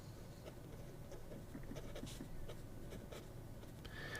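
Broad-nib Lamy fountain pen scratching across paper with Mahjong dark green ink, a soft steady scrawl of short strokes and light taps, close and fairly quiet against faint room noise.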